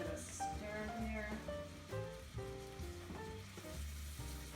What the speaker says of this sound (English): Ah, you can hear that nice sizzle.